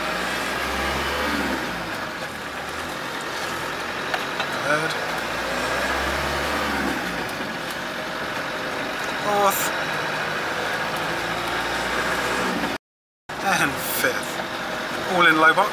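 A 1988 Land Rover 110 with a 300Tdi diesel engine creeps along in low-range first gear, its engine a steady low rumble heard beneath a person talking over it.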